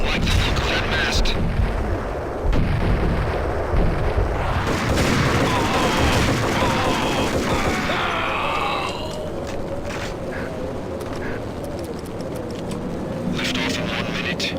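Grenade launcher blasts and gunfire in the Max Payne video game, with loud dense explosions and shooting over a rumbling backdrop that thins midway before firing resumes, while voices talk throughout.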